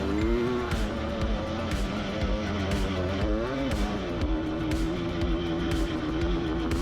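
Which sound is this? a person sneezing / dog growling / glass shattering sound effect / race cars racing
race cars racing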